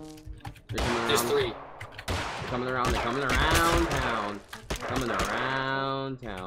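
Rapid bursts of gunfire from the PUBG battle royale game crackle throughout, dense and fairly loud, with excited voices talking over the shooting.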